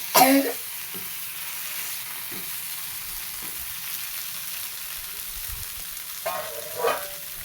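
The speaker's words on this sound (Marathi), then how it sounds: "आता आपण गरम पाणी टाकून घेऊया" Hot water hits frying egg curry masala in a pan, giving a sharp burst at the start and again near the end over a steady low sizzle, with a few faint stirring knocks between. Nobody talks.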